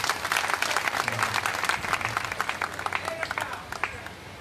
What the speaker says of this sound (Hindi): अरे इनके लिए जोरदार ताली बजाओ